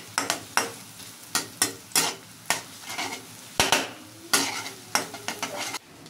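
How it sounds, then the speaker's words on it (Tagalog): Onion and garlic sautéing in a pan, stirred in repeated scraping strokes about twice a second over a soft background sizzle, close and with no talk. "Sunod na natin yung bawang. Tapos halu-haluin lang ulit."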